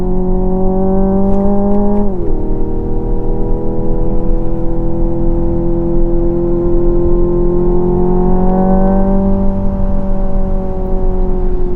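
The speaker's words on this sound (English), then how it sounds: "just being able to turn the radio off and set this thing to N mode and just enjoy the noise" Hyundai Ioniq 5 N electric car in N mode accelerating hard, its loud synthesized engine tone rising steadily, dropping at a simulated gear shift, then climbing again toward a 7,500 RPM redline.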